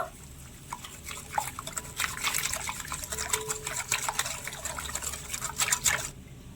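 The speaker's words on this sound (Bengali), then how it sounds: "এবারে সব কিছু হুইক্স দিয়ে ভালো করে মিশিয়ে নেব" Mango pulp being whisked with milk powder in a bowl, soft wet clicking and sloshing strokes that pick up into a quicker, busier rhythm, close and fairly quiet with no talking.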